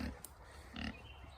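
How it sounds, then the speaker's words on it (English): Meat pigs on a homestead grunt in two short, low bursts, faint and close, with quiet background between. "these are meat pigs"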